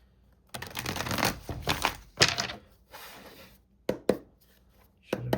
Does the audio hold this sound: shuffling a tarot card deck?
yes